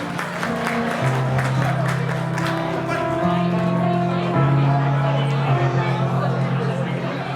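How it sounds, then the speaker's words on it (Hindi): Audience applause at a Jain bhajan evening during a Bhaktamar Mahamandal Vidhan, a continuous clapping wash mixed with sustained musical tones and crowd voices throughout. "तालियां बजाते हैं"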